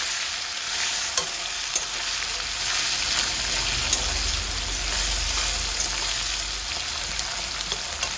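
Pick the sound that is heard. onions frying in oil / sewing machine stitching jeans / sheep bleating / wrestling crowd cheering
onions frying in oil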